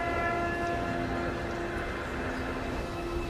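A train horn sounds over the rumble of moving rail cars, a steady sustained blast riding on continuous rolling noise, somewhat distant.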